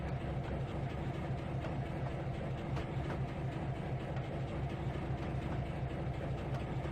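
The Blue Comet train set rolls along in Trainz 2019 without its engine, giving a steady, continuous rumble with faint clickety-clack from the wheels and no voices over it.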